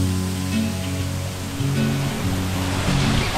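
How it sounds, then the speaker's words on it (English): Earland Falls, a 174-metre waterfall in Fiordland National Park, New Zealand, pours in a steady, loud, close rush of broadband water noise that holds constant throughout with no voices. "Epic waterfalls in Fiordland National Park."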